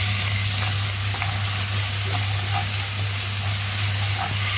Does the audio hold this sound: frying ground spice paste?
yes